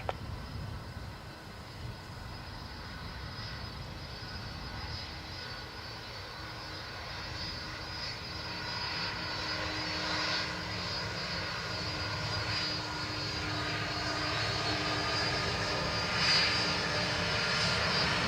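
A Delta Airbus A330 from Atlanta at Dublin Airport makes a steady, distant jet engine roar that slowly swells louder over the span, with a faint high whine above the rumble and no voices.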